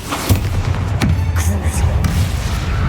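Confringo fire spell blasts in the Hogwarts Legacy video game, a few sharp booming thumps over a low rumbling game soundscape.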